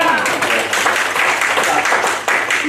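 A church congregation bursts into loud, dense applause during a Korean worship service, many hands clapping close and continuous, with some voices mixed into the crowd noise.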